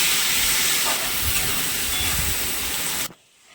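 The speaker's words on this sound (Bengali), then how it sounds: "এবার আমি দিয়ে দেবো পেঁয়াজ আর কাঁচা লঙ্কা। ভালো করে ভেজে নেবো জিনিসটা।" Onions and green chillies fry in a pan for a fish curry, giving a loud, steady hissing sizzle that continues unbroken and then cuts off sharply near the end.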